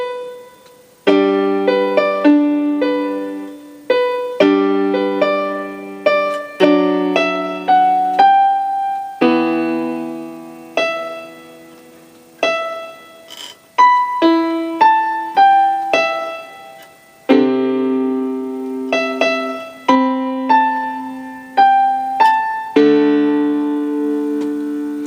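Right-hand piano part of the intro to a song, played as clear repeated chords and single notes in a steady rhythm, each struck note ringing and decaying, with no talking.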